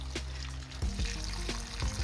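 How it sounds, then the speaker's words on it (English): Water poured from a container onto potted pineapple crowns, a close gurgling trickle with several distinct splashing bursts as the flow hits the soil, no talk over it. "I'm just going to water each of them"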